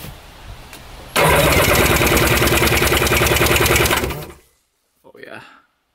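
Jet ski engine is cranked over with the throttle held open, giving about three seconds of loud, rapid, even cranking pulses that cut off abruptly, followed by a brief faint voice.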